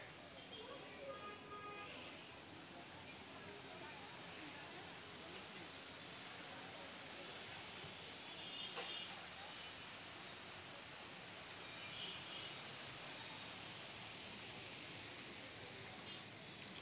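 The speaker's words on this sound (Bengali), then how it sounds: "আর এই যে দেখেন ঝর্ণার শব্দগুলো শুনতে কত ভালো লাগছে" A waterfall pours in a steady, soft, even rush of water, continuous and faint with no breaks across the whole stretch.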